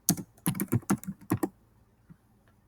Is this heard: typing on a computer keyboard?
yes